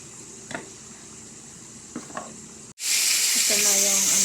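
Fish frying in a pan: quiet at first with a few light utensil clinks, then a sudden loud, steady sizzle bursts up close as the fish hits hot oil and keeps crackling.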